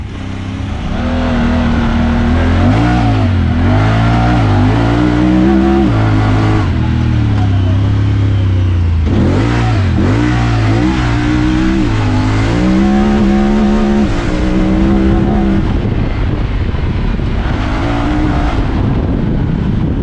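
A Honda Talon 1000R side-by-side driven fast over sand dunes, its engine loud and close with rising and falling revs and gear changes throughout, and no one talking.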